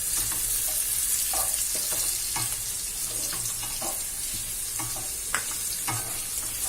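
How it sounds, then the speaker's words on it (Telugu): Onions fry in a pan for chicken pakoda biryani, giving a steady close sizzle with scattered crackles and occasional scraping strokes from stirring, no voices present. "ఉల్లిపాయలు వేగుతున్నాయి. చక్కగా ఇలాగా వేయించుకోవాలి."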